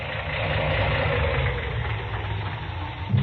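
A car engine idles roughly and misfires, a continuous low rumble with uneven chugging pulses, close and steady, ending with a louder thump.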